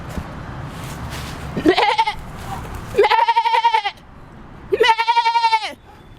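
A young goat bleats three times, each a loud, close, quavering cry lasting about a second, separated by short pauses with low background noise.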